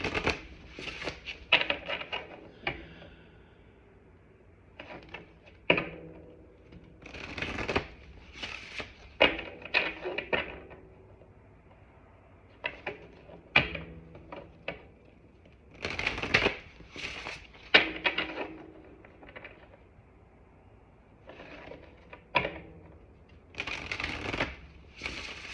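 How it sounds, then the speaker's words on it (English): Tarot cards are shuffled in repeated bursts of quick riffling and slapping, close and crisp, with short pauses between rounds. "So don't mind me, you're going to see a lot of shuffling."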